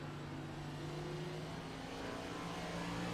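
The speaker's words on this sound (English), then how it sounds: "Listen to that throttle control and modulation as he rolls off the throttle here. Listen how this car gets down to the corner." Race car engine in a stock car racing video game at Richmond Raceway, steady close droning note easing off throttle into a corner, continuous with no talk over it.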